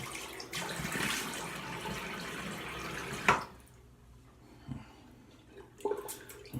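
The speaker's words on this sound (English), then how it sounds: "let me go ahead and wet my face" Water from a running tap splashes as a face is wetted before shaving, a soft close rush that stops abruptly midway, followed by quiet drips and small handling noises.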